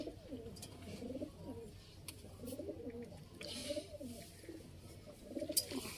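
Pigeons coo in a low, repeated murmur at a pigeon market in Sialkot, several birds overlapping at close range, with faint chirps and background market noise throughout.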